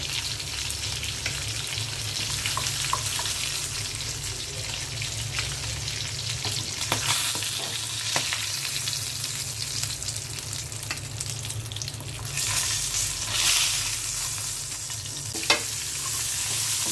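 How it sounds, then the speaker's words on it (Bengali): Continuous sizzling from a hot pan of frying onions, with occasional scraping and stirring clicks breaking through the steady crackle. "পেঁয়াজটা ভেজে নেব মাছ ভাতের উপরে দেওয়ার জন্য"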